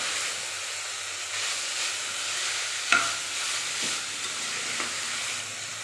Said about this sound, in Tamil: இஞ்சி பூண்டு பச்சை ஸ்மெல் போகிற அளவுக்கு நல்லா வதக்கி விட்டுக்கோங்க.